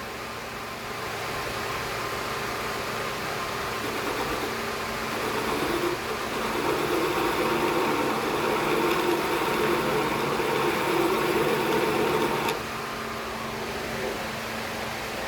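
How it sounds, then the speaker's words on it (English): A wood lathe turns at about 500 RPM with a Crown miniature spiraling tool on an oak cane, giving a steady close whirring hum and broadband hiss that grows slightly louder and rougher midway as the cut engages, then eases back. "This is the Crown miniature spiraling tool."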